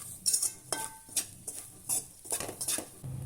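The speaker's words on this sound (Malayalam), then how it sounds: "തേങ്ങയുടെ ഈ വെള്ളമൊക്കെ നല്ലതുപോലെ വറ്റി ഒന്ന് ചുരുങ്ങി വരണം. അതുവരെ നമുക്കിത് വറുത്തെടുക്കണം." Grated coconut stirred and roasted in a pan, giving repeated close scraping and clinking strokes of a utensil against the metal pan in an irregular rhythm, with a faint sizzle underneath and no talking.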